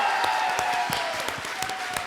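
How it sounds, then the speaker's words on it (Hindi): Studio audience at a comedy show clapping enthusiastically, dense steady applause with sharp individual claps, loud and close throughout. "बॉम्बई का नया बाप जॉन इब्राहिम के लिए जोरदार तालियां"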